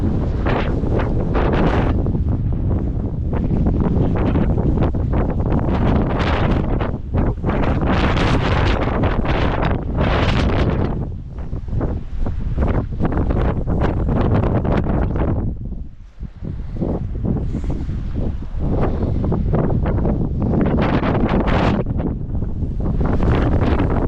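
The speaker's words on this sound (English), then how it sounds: "This wind, this silence. All you hear is the blowing winds." Strong wind blows across the high mountain paramo of Colombia, a loud continuous roar that buffets the microphone with gusts. It eases briefly near the middle, then picks up again, and nobody speaks.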